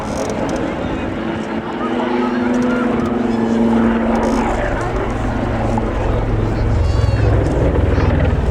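A Royal Navy Wildcat HMA-2 helicopter hovers at an RAF Cosford airshow, its rotor and engine giving a loud, steady droning roar throughout while an announcer talks over it.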